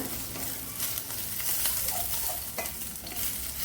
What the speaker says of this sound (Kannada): ಈ ಥರ ಚೆನ್ನಾಗಿ ಬಾಡಿಸ್ಬೇಕು ಹಸಿರು ಮೆಣಸಿನ್ಕಾಯಿನ